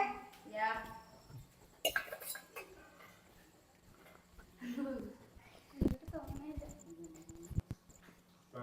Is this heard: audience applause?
no